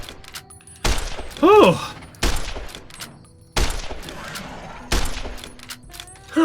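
Loud, close gunshots in Fallout: New Vegas, four or five separate heavy reports spaced about a second apart, each with a short tail, while a man exclaims between shots.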